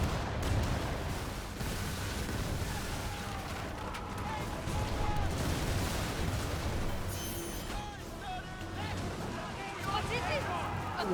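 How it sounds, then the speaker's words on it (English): Ship cannons fire in the naval game Skull and Bones, booms and blasts rolling over a loud, dense mix of in-game water and battle noise, with voices talking over the action. "See how fast my guns reload?"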